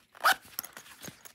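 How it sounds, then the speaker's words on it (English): An EDC wallet's zipper is pulled shut in a few short, quiet rasping strokes, the first the loudest, followed by lighter ticks and scrapes. "Zips up."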